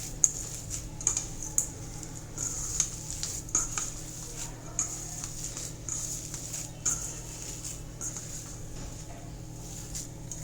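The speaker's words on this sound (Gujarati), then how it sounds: "હવે આપણે તેને મિક્સ કરવાનું છે." Potato vada mixture is stirred and mixed in a pan, with repeated scraping and soft clinks of the utensil against the vessel over a low continuous background. No one speaks.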